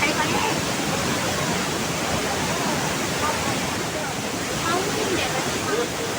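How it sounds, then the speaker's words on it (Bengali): Kanchenjunga Falls in Sikkim roaring with heavy water flow, a dense, steady, loud rushing wash that fills the whole clip without pause. "এইটা হচ্ছে মেন ওয়াটারফল"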